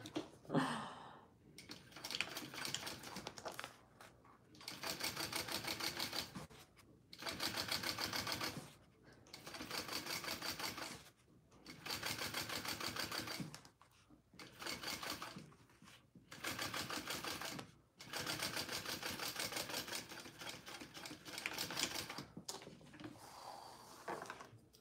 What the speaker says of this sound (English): we're going to top stitch along this back panel